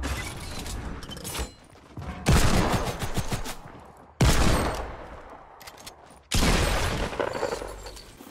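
Fortnite gunfire lands a headshot in three loud, abrupt bursts spaced about two seconds apart, each ringing out and fading before the next, with no talking.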